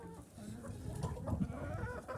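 Chickens in a farm shed cluck in a low, busy chorus, with steady soft murmuring and occasional louder clucks, close by and without talk.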